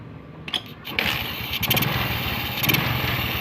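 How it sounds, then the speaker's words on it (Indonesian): A motorcycle engine catches after a kick-start and settles into a steady, close, rumbling idle. "Bisa teman-teman lihat ya, di motor langsung hidup."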